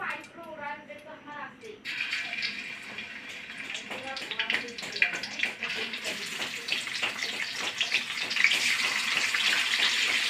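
Tap water runs and splashes while silver carp pieces are washed in a sink, a steady gushing stream that grows louder toward the end, with someone talking over it.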